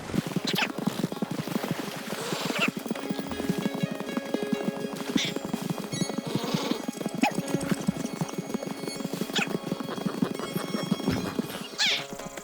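Hooves clip-clop at a steady trot as a Missouri Fox Trotter is ridden in Red Dead Redemption 2, loud and close, with dense rhythmic footfalls, occasional tack jingle and faint background music throughout.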